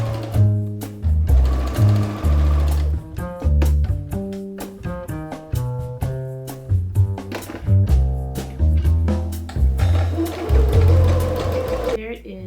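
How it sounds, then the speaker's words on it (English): A sewing machine hems fabric with a rolled hem foot, its loud steady mechanical whirring running in bursts that pause and restart throughout. "Now I'm just hemming the hem with a rolled hem foot."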